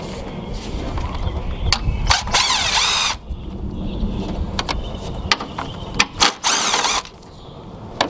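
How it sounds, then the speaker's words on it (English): Loosening 10 mm bolts to remove a car battery on a Toyota/Lexus V6 (3MZ-FE engine): close metallic ratchet clicks and tool rattles, with short bursts of rapid clicking and clanks over a steady background hum. "you'll loosen up the 10 right here and the 10 right here and remove the battery."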